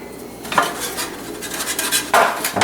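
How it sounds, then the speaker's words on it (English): Chopped fresh basil scraped into a stainless steel pan, bright metallic clinks and scrapes of utensil on steel in two distinct bursts, close and clear with no talking. "At this point I like to take it and get it in a stainless steel pan."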